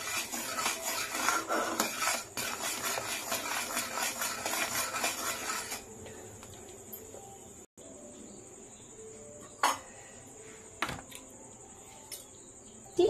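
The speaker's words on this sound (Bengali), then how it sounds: "বারবার নাড়িয়ে চাড়িয়ে নিচ্ছি, এটাকে ভালো করে গাঢ় করে নিতে হবে।" Milk being stirred in a pot while it thickens for homemade kulfi ice cream, a steady close scraping and rubbing of the spoon for several seconds, then quieter with a few isolated clinks and taps of utensil against metal.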